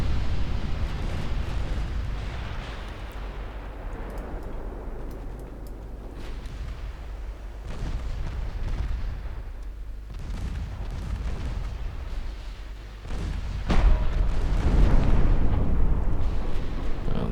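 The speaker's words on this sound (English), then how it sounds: "This thing is exploding as well." Deep rumbling blasts and booms from a warship exploding during a naval battle in Ultimate Admiral Dreadnoughts, with heavy sustained roars, scattered sharp bursts, and a louder eruption near the end.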